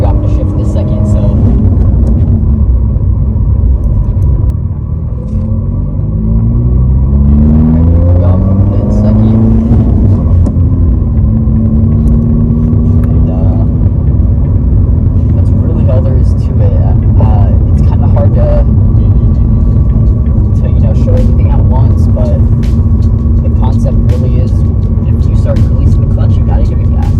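A manual car's engine hums steadily while accelerating in first gear, then the pitch drops and climbs again through a shift into second gear. The engine drone is loud and close throughout, with a person talking over it.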